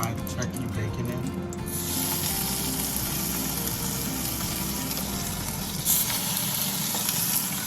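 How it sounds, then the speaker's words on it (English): A burger and turkey bacon fry together in a pan, a loud continuous sizzle and crackle up close, with low background hum and a brief rise near the end. "So now I just flip my burger and I'm gonna let the other side cook. I'm gonna put my turkey bacon in."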